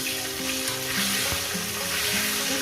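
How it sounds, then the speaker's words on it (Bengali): Potato and cauliflower pieces fry together in a pan with a loud, dense, unbroken sizzle that stays close and even throughout, with no talking. "ফুলকপি দিয়ে আরও আমি পাঁচ ছ মিনিট ভেজে নেব"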